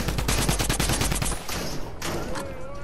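Rapid automatic gunfire in the video game Fortnite, a loud burst of evenly spaced shots that stops partway, followed by scattered distant shots and game noise.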